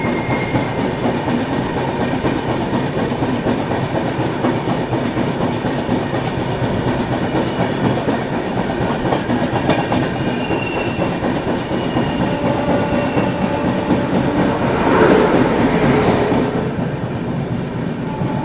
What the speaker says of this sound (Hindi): यहाँ पे हम वापस ओवरटेक कर रहे हैं रेवांचल एक्सप्रेस को